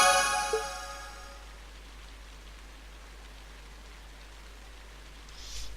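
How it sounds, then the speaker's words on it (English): Rain in the video game Trails of Cold Steel falls as a soft, even hiss throughout, after a short chiming game tone at the start. "I didn't even realize it because of the rain"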